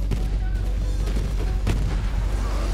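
Turrets fire in the video game Borderlands 3 as a rapid, continuous barrage of booming gunfire with heavy low-end thuds, loud and close throughout the short burst.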